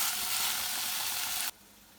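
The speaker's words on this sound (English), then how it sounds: "stir frying" Vegan Thai green curry sizzling as it is stir-fried in a hot pan, a bright steady frying hiss that cuts off abruptly, leaving quiet.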